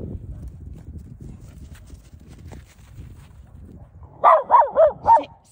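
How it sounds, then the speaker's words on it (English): A dog barks four times in quick succession, loud and near, after a stretch of faint shuffling background noise in a snowy outdoor setting. "Paisley, no barking"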